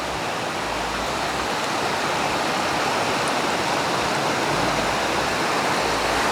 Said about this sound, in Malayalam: അങ്ങ് ദൂരെയുള്ള ആ മലയിൽ നിന്ന് വരുന്ന അരുവിയാണത്.